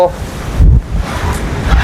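Wind buffets the microphone outdoors at a house building site being readied for a concrete floor pour, giving low rumbling gusts that swell loudest near the middle and keep churning throughout.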